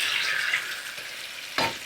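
Hissing sizzle of Roma tomatoes hitting a hot frying pan, loud at first then settling, with a scrape or stir near the end.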